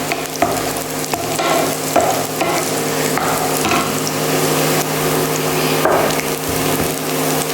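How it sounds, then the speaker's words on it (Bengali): Cumin seeds fry in hot oil in a pan, a steady crackling sizzle up close, punctuated by repeated scraping knocks of a wooden spatula stirring them around. "জিরেটাও আমরা ভালো করে ফ্রাই করবো"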